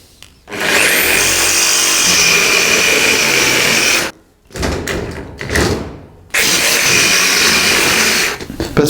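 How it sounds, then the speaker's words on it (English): A jigsaw saws through thick metal stock for new support brackets, a loud, steady rasping buzz that runs for several seconds, breaks off, restarts in short uneven bursts, then carries on strongly to the end. "So I'm going to use the jigsaw."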